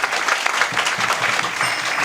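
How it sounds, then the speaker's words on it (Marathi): A crowd at a kirtan gathering breaks into loud applause, many hands clapping in a dense rattle for about two seconds, with faint voices murmuring underneath. "खरं तर अनिल डोईफोडे यांच्यासाठी एकदा मोठ्या मनानं टाळ्या वाजा"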